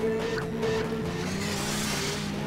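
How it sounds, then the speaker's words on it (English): Strained, droning race car engine from a video game, holding a high sustained whine with road noise, steady and fairly quiet with no voices. "sounds like the engine's about to blow"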